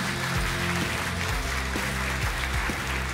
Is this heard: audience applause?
yes